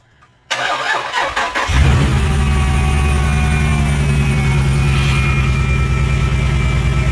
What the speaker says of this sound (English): let's give it a little bit more power and see if she want to crank